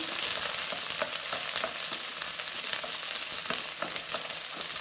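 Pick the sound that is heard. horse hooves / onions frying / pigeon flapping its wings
onions frying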